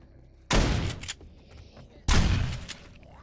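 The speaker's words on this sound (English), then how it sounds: "shotgun is the best weapon on that distance," A shotgun fires twice in the survival video game 7 Days To Die: two loud, close booming blasts about a second and a half apart, each trailing off in a short rumbling tail.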